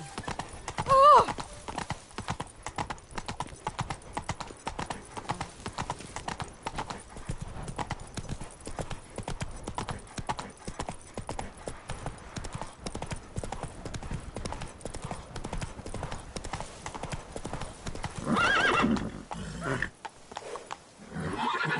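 In The Witcher 3, a horse gallops with rapid, continuous hoofbeats up close, and a neigh cuts through near the start; the hoof rhythm runs steadily before briefly breaking off near the end.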